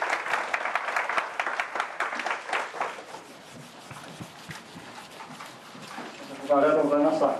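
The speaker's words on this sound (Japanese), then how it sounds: "偉大な拍手の方をお願いしたいと思います" Audience applause closing a special lecture, steady broadband clapping from a seated crowd that fades gradually, followed by a voice speaking briefly at the end.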